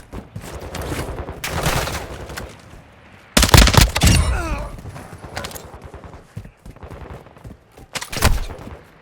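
Gunfire in the video game Warzone DMZ comes in loud bursts, one near the start, a heavy volley in the middle and another near the end, over a busy game soundscape.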